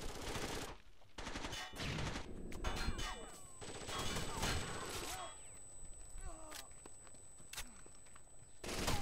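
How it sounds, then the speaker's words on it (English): Gunshots in the video game Rainbow Six Vegas 2 come as sharp, scattered bursts, mixed with metallic clangs and people talking. "I just heard two shots and you die."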